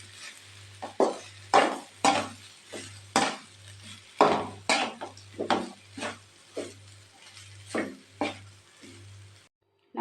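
Carrots and cooked rice are stirred in a pan for carrot rice, with repeated scraping and clinking strokes in an uneven rhythm over a faint sizzle.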